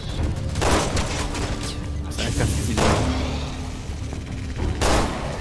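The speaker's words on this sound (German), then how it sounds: "Das habe ich einen Schuss verschwendet, Niklas." Several sharp gunshot bursts from the video game Resident Evil 6 ring out over a dense, noisy backdrop, with a few loud impacts spaced a second or two apart.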